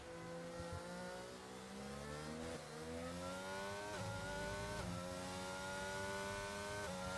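A Formula 1 car engine from a racing video game screams through a flying lap, its high whine climbing steadily through the gears with quick dips at each upshift, loud and continuous throughout.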